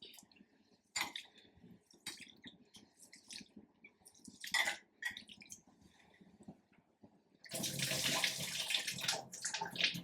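Water splashes and trickles as something is rinsed by hand while preparing jaggery rice pudding, starting with scattered close splashes and drips and then becoming a louder, steady rush of running water toward the end.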